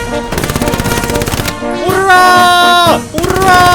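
Rapid automatic gunfire from the World War II shooter Hell Let Loose rattles in fast bursts, loud and close, with shouting voices mixed in as the firing continues.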